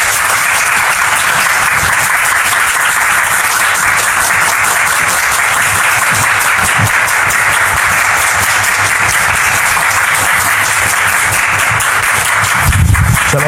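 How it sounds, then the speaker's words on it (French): A television studio audience gives loud, sustained applause as guests arrive, a dense and continuous roar of many hands clapping together that holds steady for several seconds without any speech. "Nous les recevons ici maintenant sous vos applaudissements"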